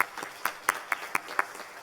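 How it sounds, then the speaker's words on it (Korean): Congregation at a Sunday church service clapping to welcome new members, a fairly sparse, rhythmic patter of claps at moderate distance over a short burst. "우리 큰 박수로 한번 환영하겠습니다."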